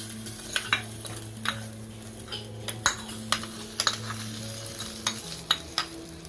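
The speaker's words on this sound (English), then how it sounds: "Mix it well" Mutton keema in a green curry being stirred in a pan, with a spoon or spatula scraping and clinking against the metal at irregular intervals over a steady soft sizzle, close and alone.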